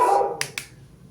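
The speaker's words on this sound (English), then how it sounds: "sorry about the dogs." Dogs bark nearby, with a whining tone followed by two quick, sharp barks in close succession before fading to quiet.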